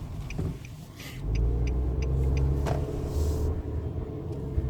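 A 2016 Nissan Versa Note SR engine rumbles and builds steadily as the car accelerates, a low continuous drone heard from inside the cabin with no talking.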